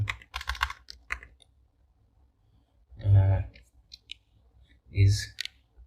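Computer keyboard keys click in short bursts, a scatter of taps at first, then two denser clusters of quick typing, close and moderately loud in a quiet room.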